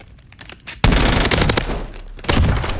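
Rapid bursts of gunfire at a video game firing range, starting quietly and then erupting into loud, sustained automatic fire with a second heavy burst near the end.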